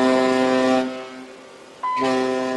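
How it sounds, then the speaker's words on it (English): A ship's horn sounds a steady, loud multi-tone blast, breaks off for about a second, then blasts again as a warning to a suspected pirate boat approaching at sea. "The foghorn is to tell them they've been spotted"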